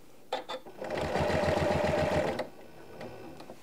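A sewing machine stitches a vintage linen strip onto a quilt-as-you-go wall hanging, running in a steady, quiet mechanical whir for about a second and a half, with a few clicks before and after.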